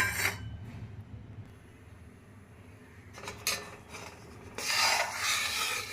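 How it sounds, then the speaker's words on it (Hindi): A spoon scrapes and rubs through jaggery cooking with ghee, dry ginger and cardamom in a pan over medium heat, a quiet intermittent rasping that comes in a few short bursts and grows louder near the end. "घी डालने के बाद अब मीडियम आंच में चलाते हुए हम पका रहे हैं।"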